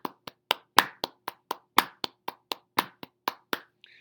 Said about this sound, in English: Notice I was tapping the downbeat as I was clapping it.